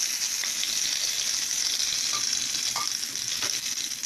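Mustard seeds sputter in hot oil for a tempering, heard as a steady close sizzle with faint scattered pops and light stirring, and no voices.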